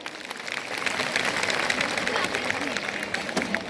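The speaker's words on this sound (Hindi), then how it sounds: "तो भारतीय नारी होने पर एक जोरदार ताली।" An audience at a lecture on Indian women claps loudly in a dense, sustained wash of applause that continues evenly throughout.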